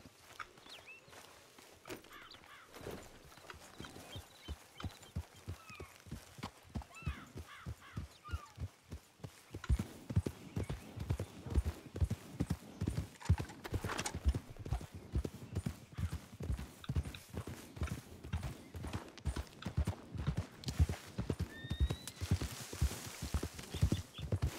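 Horse hooves clip-clop steadily on the ground in the RedM role-play game, a long run of even, close hoofbeats that grows louder partway through, with faint bird caws in the background.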